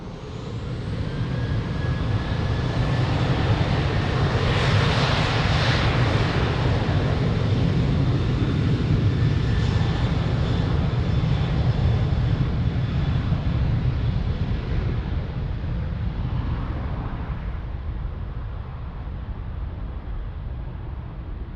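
Transavia airliner taking off from runway 02 at Lisbon Airport, a loud sustained jet engine roar that builds and then slowly fades as the aircraft climbs away, steady throughout with no voices.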